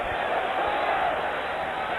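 A wrestling crowd cheers loudly in a packed hall, a thick continuous roar filling the whole stretch with a few thumps from the ring beneath.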